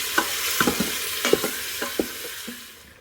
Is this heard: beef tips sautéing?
yes